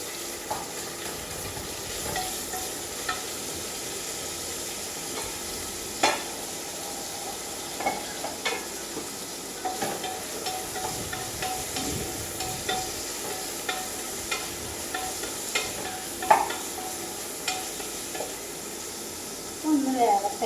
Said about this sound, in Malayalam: നമ്മൾ കുക്കർ അടുപ്പത്ത് വെച്ചിട്ട് അതിൽ നമ്മൾ സവാള, കറുവാപ്പട്ടൊക്കെ ഇട്ടു കേട്ടോ.